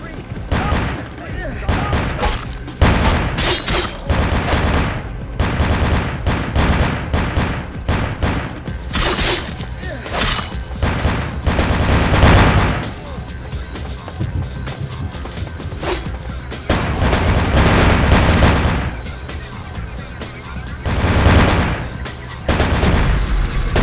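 Gunfire in the vampire game Vampire: The Masquerade, loud bursts of shots and booms packed densely through the whole stretch, with a talking voice mixed in.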